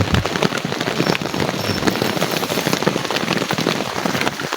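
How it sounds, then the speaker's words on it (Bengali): Heavy rain pours steadily outside a camping tent during a sudden winter shower, a loud, dense, unbroken hiss of drops drumming on nearby surfaces, with no talk. "আপনাদের দেখাচ্ছি বাইরে কি পরিমাণ বৃষ্টি হচ্ছে"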